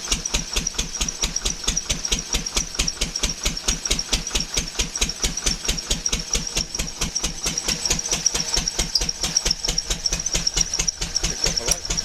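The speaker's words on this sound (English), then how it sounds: "Hear the grunt in the generator. Yeah, the belt's slipping a little bit." An engine-driven induction motor generator under load with a slightly slipping belt, giving a fast, steady, loud mechanical beat with a constant high whine, heard alone.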